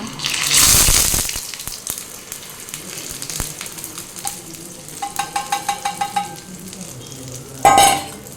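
Food dropped into hot oil sets off a loud burst of sizzling. It settles into a steady fry, followed by scraping stirs, a run of quick rhythmic taps and a final loud sizzling stir.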